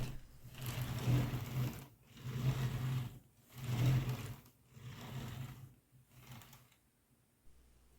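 A toy Lego truck and trailer roll back and forth with a rattling plastic whir, in four or five close surges that fade to quiet.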